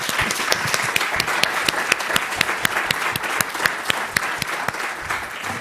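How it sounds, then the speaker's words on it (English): Steady applause from a conference audience at an audiovisual translation event, dense claps filling the room at even loudness for several seconds with no talk over it. "Let's give a round of applause to Carol."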